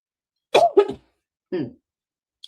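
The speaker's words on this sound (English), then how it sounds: "I'm still coughing." A few harsh coughs close by: a quick double cough, a pause, then one more, followed by silence and a faint click.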